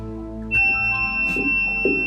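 A toy robot's high, steady electronic beep tone starts abruptly as a circuit is closed and holds continuously, with faint rustles and small movements in the background.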